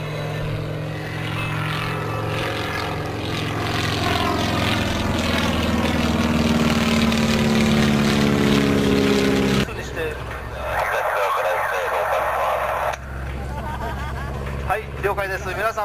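A loud droning propeller engine of a WACO biplane roars steadily at a flight show, its pitch sliding downward as it passes overhead, then continues as a rougher rumble with a voice talking over it.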